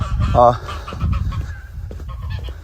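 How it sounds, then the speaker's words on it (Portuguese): Farm birds on a rural property cry out in alarm, a loud honking goose-like burst near the start followed by scattered calls, with a person talking briefly over them. "Ó, as aves estão gritando."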